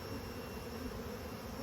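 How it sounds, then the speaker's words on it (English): Honeybees swarming in an open beehive during a hive inspection, a dense continuous buzzing drone that stays close and steady throughout, with no talking. "You can have a lot of bees."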